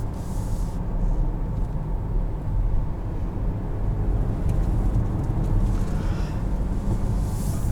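Steady low engine drone and road rumble from a 2021 Volkswagen Atlas SE R-Line riding on Pirelli Scorpion tires while driving, continuous and moderately loud throughout with no talk.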